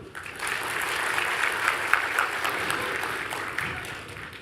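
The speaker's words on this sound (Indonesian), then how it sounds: "tepuk tangan." A crowd at a live comedy show breaks into steady applause, dense clapping holding at a moderate level throughout with a brief louder swell near the middle.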